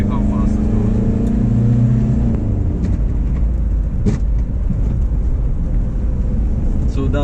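A Toyota Corolla 2.0 diesel accelerating, its engine drone rising steadily and then settling into a steady hum from inside the car, with someone talking over it.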